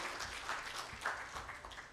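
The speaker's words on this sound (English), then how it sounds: "let's give an applause to Mr. Malej, who presented for Gloria" A crowd applauds with steady, dense clapping that carries on evenly for a couple of seconds.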